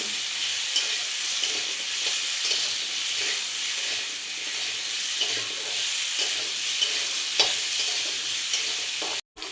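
Rohu fish frying in hot oil with salt and turmeric, a steady close sizzle with faint stirring scrapes throughout, ending abruptly.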